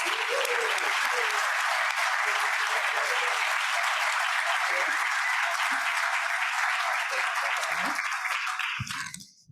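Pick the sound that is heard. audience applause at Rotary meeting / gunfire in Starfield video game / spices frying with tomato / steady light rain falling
audience applause at Rotary meeting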